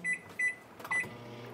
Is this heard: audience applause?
no